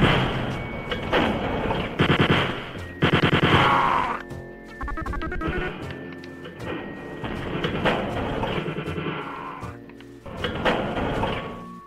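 Gunfire from a zombie enemy in Wolfenstein 3D comes as a few sharp, blocky bursts amid other retro game effects, with brief pauses and an electronic tone between shots.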